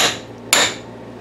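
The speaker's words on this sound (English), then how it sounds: "jam this thing up there and hammer it so that it'll make a dent" Hammer blows on a metal part pressed against a workbench to mark a dent for drilling: two sharp, loud metallic strikes, one at the start and another about half a second later, each ringing briefly and fading, with no talk.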